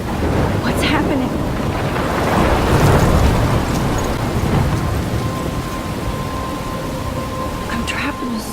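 A thunderstorm with heavy rain in the video game Life is Strange, a loud continuous downpour with a deep thunder rumble swelling midway and then easing off, no voices heard.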